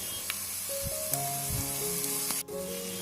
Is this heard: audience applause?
no